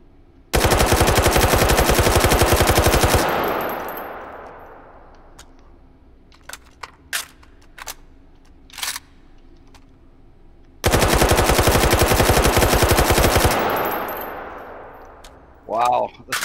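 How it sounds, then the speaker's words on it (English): Loud bursts of automatic gunfire from an AK-style rifle in the VR shooting game H3VR, one long rapid burst at the start and another later, with scattered clicks and clanks of handling in between. "the sound of that one is like it'll give you a headache after 20 minutes of shooting"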